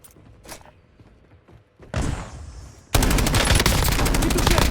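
Gunfire in the video game Warzone: scattered faint shots and thuds, then a burst of loud sustained automatic fire that grows into a dense, rapid rattle, close and heavy at the end.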